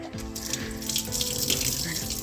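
Running water from a tap during a turtle aquarium water change, a steady close splashing rush filling a container, continuous and fairly loud with no talking over it.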